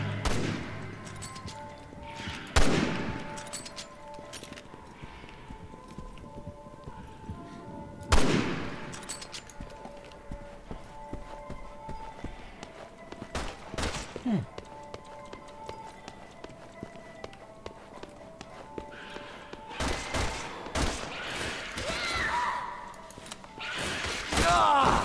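Gunshots in the video game Resident Evil 6, set in a stark white hospital: a few loud, isolated blasts spread several seconds apart over quieter movement and clatter, with a denser cluster of shots near the end.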